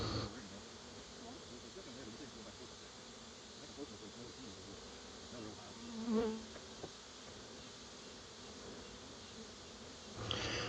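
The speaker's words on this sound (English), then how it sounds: "This swarm is probably considered to be Italian bees." A swarm of Italian honey bees buzzing as they move into a new hive, a dense continuous hum with a brief louder swell partway through.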